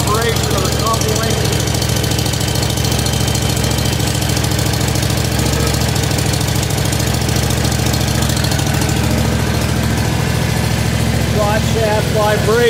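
A Vanguard 18 engine idles steadily in a Cub Cadet 1872 garden tractor, a loud, continuous mid-range rumble with slight vibration running throughout, close up with no speech over it.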